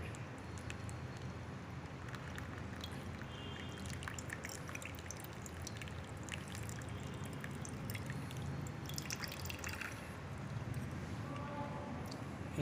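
A solution is poured along a glass rod onto filter paper in a funnel, giving a soft continuous trickle with faint drips over a low room hum.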